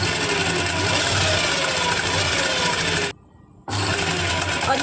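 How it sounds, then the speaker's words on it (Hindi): A sewing machine stitches a kurti placket in a steady, fast whir that runs continuously, stops abruptly for a moment, then starts again at the same pace. "यहाँ से एक पाँव का मार्जिन छोड़ते हुए पूरे में सिलाई लगा देंगे"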